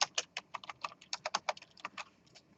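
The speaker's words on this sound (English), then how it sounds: "you can't see what I'm typing" Rapid, uneven typing on a computer keyboard during a lecture, a steady run of light clicking keystrokes heard alone at close range.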